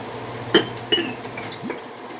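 Glass canning jars clink as they are lifted out one by one, with two sharp clear knocks followed by a softer one over quiet kitchen background.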